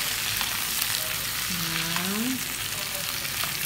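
Tomatoes sautéing in a pan for a shrimp dish, a continuous loud sizzle and crackle of frying, with a voice talking briefly over it.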